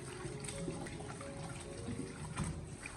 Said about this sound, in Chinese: 我们先把青辣椒用自来水给它冲洗一下，把青辣椒给它清洗干净